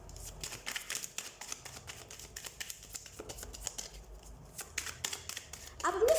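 Tarot cards shuffled close by in a steady run of soft, quick riffles and flicks, fairly quiet, ending in a slightly louder rustle.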